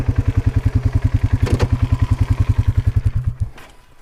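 A Polaris Sportsman 570 Touring ATV idles with a close, even, thumping pulse, then the engine is shut off and the beat stops abruptly, leaving quiet outdoor noise.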